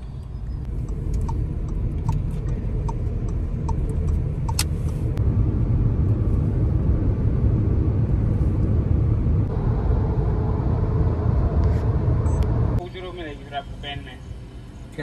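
Gurgaon road traffic makes a continuous low rumble with engine drone and faint ticking, cutting off abruptly near the end, while people talk nearby.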